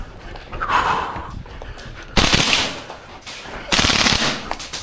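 A Maruyama ISO556 gas blowback airsoft rifle firing, two sharp bursts of rapid rattling shots, close and loud, with breathing and handling noise in the gaps.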